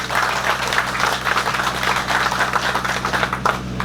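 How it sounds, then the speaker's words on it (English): Audience applause at a Camaro Fest tech talk with GM representatives, a steady wash of many hands clapping indoors for nearly four seconds, moderately loud with a faint hum underneath and no talking. "Can everyone give a round of applause for Courtney and Mitch for their great presentation?"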